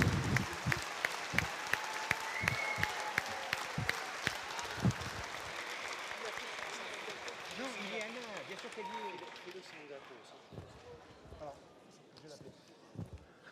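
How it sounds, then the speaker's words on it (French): Applause from a graduation ceremony audience for apprentices at CFA Métropole Nice Côte d'Azur, lively at first with distinct sharp claps, then thinning and fading as a voice begins talking over the dwindling clapping. "On l'applaudit bien fort."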